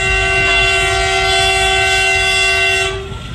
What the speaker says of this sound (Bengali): ওই যে ট্রেন গাড়ি